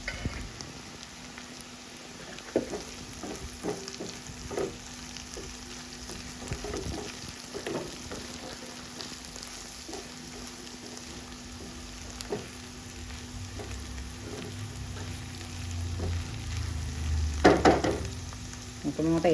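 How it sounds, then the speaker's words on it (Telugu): Chopped ivy gourd (tindora) frying uncovered in oil in a pan, a quiet continuous sizzle broken by spatula stirs and scrapes, with a low rumbling clatter and louder handling toward the end. "మూత వేయకుండా ఫ్రై చేసుకోవాలి"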